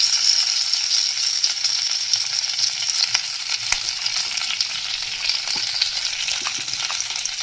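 Spice masala fries in hot oil on a banana leaf laid in a pan, giving a close, continuous bright sizzle with small crackles and an occasional light clink, with no talking.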